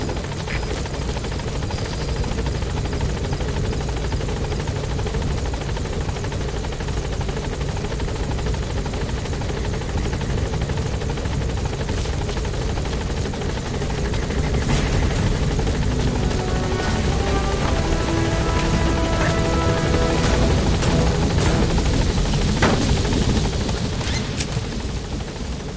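A helicopter from Metal Gear Solid V landing and lifting off, a loud continuous rotor thump and engine whine throughout, swelling as it climbs near the end.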